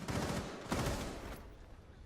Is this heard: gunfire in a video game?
yes